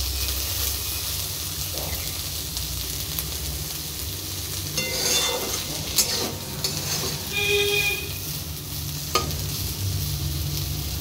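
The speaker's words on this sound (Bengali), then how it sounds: "এখানে আলুগুলো একটু ভেজে নেবো।" Boiled potatoes frying in oil in a pan for a vegetarian soybean and potato dish, a steady close sizzle with occasional stirring scrapes and brief clinks, heard alone without talk.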